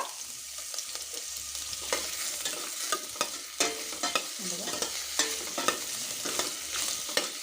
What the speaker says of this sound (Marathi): आता आपल्याला हे जे आपले कांदे होते ते छान तळून घ्यायचे आहेत ब्राऊन कलर होईपर्यंत